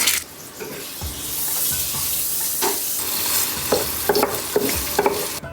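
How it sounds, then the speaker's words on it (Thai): Pork ribs stir-fried with dried chili, garlic, spring onion, oyster sauce, salt and pepper, a bright close sizzle with repeated scraping and clattering strokes of a spatula tossing the pieces in the pan. "เราก็ผัดจนแบบซอสเนี่ย ซึมไปในซี่โครงเรียบร้อย"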